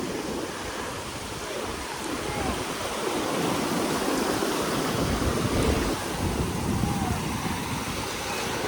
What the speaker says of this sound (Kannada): ಎಷ್ಟು ದೊಡ್ಡ ದೊಡ್ಡ ಅಲೆ ಬರ್ತಾ ಇದೆ ಗೊತ್ತಾ ಇವತ್ತು